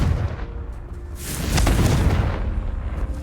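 A Confringo blasting spell goes off in Hogwarts Legacy, a deep rumbling boom that swells midway with a sharp burst and crackle, then a lingering low roar.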